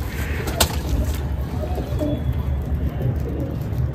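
Andha pigeons coo in a low, steady murmur against a busy background hum, with one sharp click early on and no clear voices.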